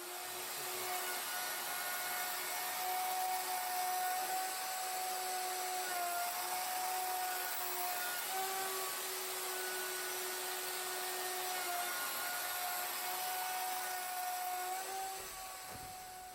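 A Festool router running on a custom router sled, a loud steady high-pitched motor whine that holds for the whole stretch with slight pitch shifts as it cuts wood, no talk.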